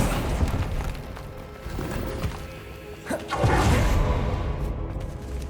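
An Accio summoning spell cast in the Hogwarts Legacy video game: swooshing, whooshing magic with a couple of soft thumps, building to a louder rushing swell midway and carrying on over low game ambience.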